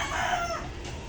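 A rooster crowing among chickens, one short nearby call with a rising then falling tone over a low farmyard background.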